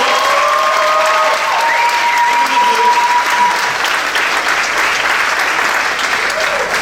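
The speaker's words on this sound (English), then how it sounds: "Can we give them another round of applause?" A convention audience applauds loudly and continuously, a dense wash of clapping with a few whistles near the start and no break throughout.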